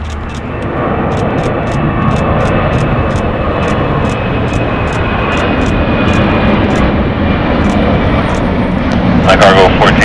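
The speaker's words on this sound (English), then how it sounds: "We now have LATAM cargo going to Miami, a Boeing 767ER freighter now departing here on the south side." A LATAM Cargo Boeing 767ER freighter departs from the south side of LAX, its jet engines a loud, steady roar that keeps building. Regular clicks run throughout, and radio voices break in near the end.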